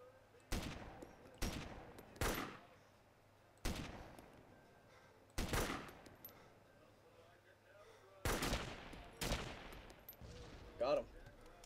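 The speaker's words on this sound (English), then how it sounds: "That turret's shooting over here" Heavy turret gunfire in the military shooter Arma 2, six loud booming shots spaced irregularly over several seconds, each with a long rolling tail. Faint background ambience, no talk over the shots.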